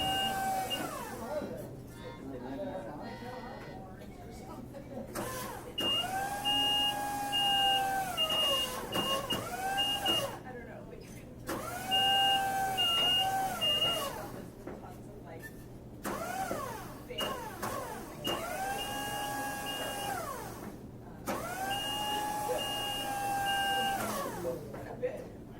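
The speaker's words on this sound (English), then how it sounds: "We leave you with sounds from one of our locations. It's your audio minute we call Library Zen." Library ambience with recurring electronic beeping tones in long, evenly spaced bursts over a steady low hum and a soft room murmur.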